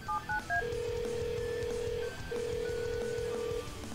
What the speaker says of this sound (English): Here's the phone messages.